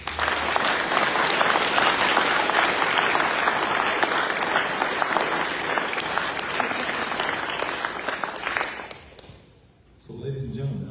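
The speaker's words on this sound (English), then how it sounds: "Give him a round of applause." An audience at a US Navy retirement ceremony for a senior chief petty officer gives sustained, loud applause for about nine seconds, which fades out before a voice begins speaking.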